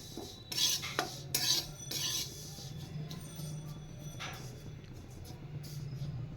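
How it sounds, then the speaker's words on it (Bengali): A metal spatula scrapes and clinks around a wok as white sesame seeds dry-roast, with a busier clatter at first that settles into softer, steady stirring. "এখানে একটা কড়াই বসিয়ে দিয়েছি আমি এখানে একটু সাদা তিল নিয়েছি সাদা তিলগুলো একটু হালকা ভেজে নেব"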